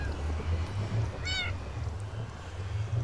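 A cat meows once, short and clear, in Minecraft, midway through over a low murmuring background hum.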